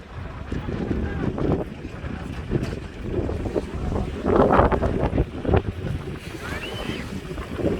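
Strong gusty wind buffets the microphone at Haeundae Mipo beach in Busan, surging and easing in rough waves, with voices talking underneath.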